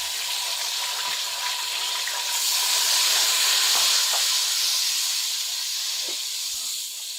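Medium tomatoes drop into hot oil with browned garlic for aloo gobi, setting off a loud, steady sizzling hiss that swells midway, with a few soft clinks and stirring sounds and no talk.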